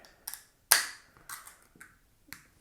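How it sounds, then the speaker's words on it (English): A bottle of Belgian-style golden ale being opened and poured, heard as a series of sharp clicks and crisp snaps, one louder crack among them, close and quiet between hits. "So let's get this one cracked gently."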